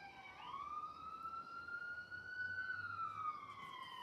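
A distant ambulance siren wails steadily, its pitch rising and falling smoothly over a faint background hum, with no one speaking.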